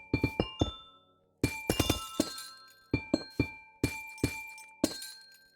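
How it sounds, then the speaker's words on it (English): Amethyst blocks in Minecraft chime in quick clusters of bright, ringing glassy tones. Several groups of three or four strikes are separated by short pauses, and each note rings out cleanly without any voice. "the block of amethyst, dude, they sound pretty amazing"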